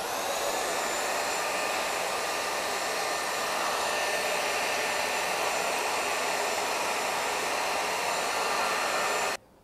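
Deerma DX888 3-in-1 handheld vacuum cleaner running steadily at close range, a loud continuous whirring motor hum with a high whine that holds even for about nine seconds before cutting off.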